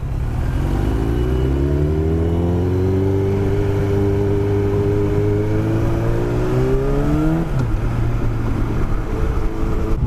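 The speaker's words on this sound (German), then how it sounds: "Mein Motorrad ist doch nicht so laut" A Yamaha R1 motorcycle engine, restricted to 48 PS, revs up loud and close in one long smooth climb in pitch, then drops off abruptly near the end.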